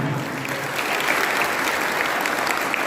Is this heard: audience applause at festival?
yes